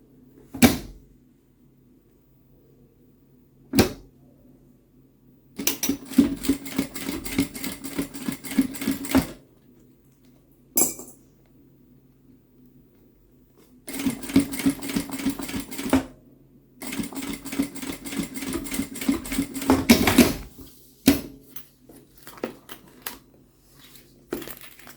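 A sewing machine stitches a seam on a small fabric zip pouch, with several bursts of rapid mechanical whirring and clacking separated by pauses and occasional sharp clicks.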